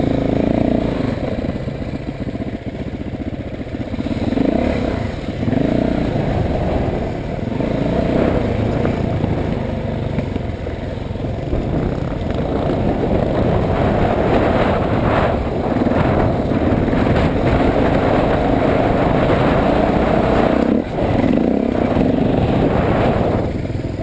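An old Husqvarna motorcycle rides steadily with continuous engine drone and occasional revs, loud and close, without talk throughout.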